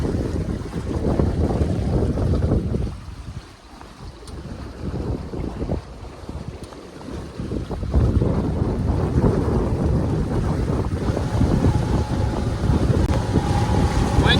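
Strong wind gusting and buffeting the microphone aboard a MacGregor 26X sailboat heeled over on Lake Powell, a loud, continuous roar with water and hull noise beneath, easing briefly mid-clip before building again.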